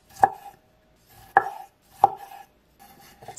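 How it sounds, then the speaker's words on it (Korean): A knife quarters cherry tomatoes on a cutting board: four crisp, separate chops spaced unevenly, close and clear, with no talking. "방울토마토는 네 조각으로 자르세요."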